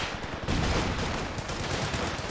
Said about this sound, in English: Incendiary rounds activated by the MG34